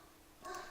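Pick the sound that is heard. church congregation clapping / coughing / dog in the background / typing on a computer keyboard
dog in the background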